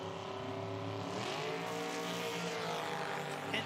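Nitro drag racing cars at an IHRA Outlaw Nitro Series event roar steadily and loudly, engine tones climbing as they accelerate away from the line.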